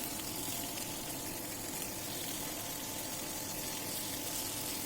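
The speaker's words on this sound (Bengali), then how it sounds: "সরিষার তেল দিয়ে ভাজার কারণে কিন্তু এখানে খুব ভালো একটা স্মেল আসে" A burger fries in mustard oil on a flat tawa, giving a steady, faint hiss that runs without a break and has no talk over it.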